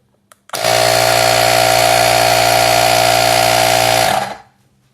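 A Costar tyre inflator starts up suddenly after a faint click and runs loud and steady with a buzzing, drill-like whine for about three and a half seconds before stopping.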